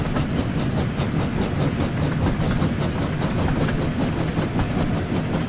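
Train rolling along rails in the Thomas and Friends: Wonders of Sodor game, a steady, loud rumble with a faint repeating clickety-clack running throughout, no voices.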